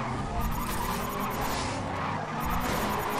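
A race car drifts in Race Driver GRID, its tires squealing and skidding continuously over the roar of the engine, loud and close for a few seconds.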